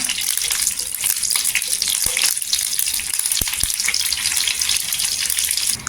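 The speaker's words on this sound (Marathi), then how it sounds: "जिरं पण छान असं तरतरलं पाहिजे" Cumin seeds sputter in hot oil for a tempering for red chilli thecha, a loud close crackling hiss with a few sharp pops, continuous for several seconds.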